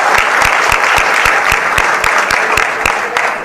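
Loud, sustained audience applause at a political rally, dense clapping with some sharp individual claps standing out, no talk over it.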